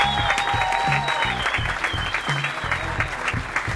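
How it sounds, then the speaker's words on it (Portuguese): Live stand-up comedy audience claps and cheers steadily for a performer, dense applause filling the room close up for about four seconds, with a faint voice and musical tones briefly mixed in. "um forte aplauso para o Joca, senhoras e senhores"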